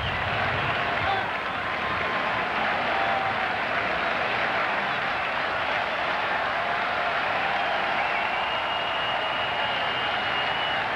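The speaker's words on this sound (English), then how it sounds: "Crowd cheering Pedro here on every pitch in the first inning" A Boston stadium crowd at a Tampa Bay at Boston baseball game cheers Pedro on a first-inning pitch, a steady dense roar of cheering and applause that holds throughout with no break.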